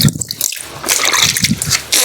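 Dosa batter poured onto a hot griddle in a village kitchen, a wet splattering and sizzling hiss that rises and falls, close by.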